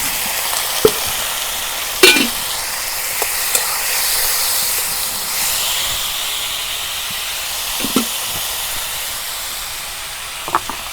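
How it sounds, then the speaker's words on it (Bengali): Potatoes hitting hot oil for a fish curry with sweet pumpkin leaves, a steady loud sizzle and steam hiss with occasional sharp clicks and stirring taps, close and alone. "এখন আমি আলুগুনা বাগার দিলাম।"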